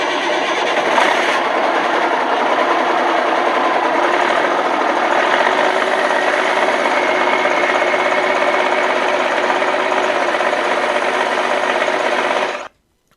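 A cargo truck, escorted by Dodge Chargers and Dodge SUVs, starts its engines and drives off with a loud, steady engine roar that holds for about twelve seconds and then cuts off abruptly.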